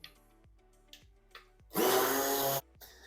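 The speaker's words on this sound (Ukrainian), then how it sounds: "І тепер усе я буду перебивати блендером." A few soft knocks and taps, then a hand blender mixing cheese and soft butter whirs loudly for about a second before cutting off abruptly.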